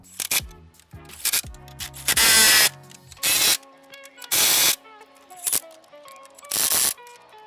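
A power tool tightening engine mount bolts on a Ford Fiesta ST, firing in several short, loud, harsh bursts with clinking and ratcheting sounds between them.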